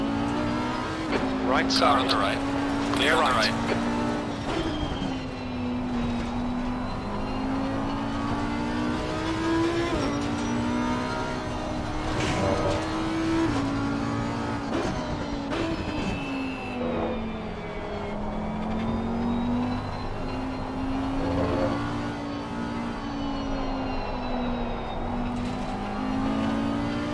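A GT3 race car in the Assetto Corsa Competizione sim at Indianapolis drones steadily at high revs, with a rival car audible alongside, the engine pitch rising and falling through gear changes; a voice talks over it.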